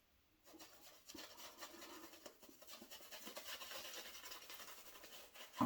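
A Carbon CX-316 safety razor scrapes across stubble in a quiet, close, dry rasping pass that keeps going for several seconds with slight swells in intensity.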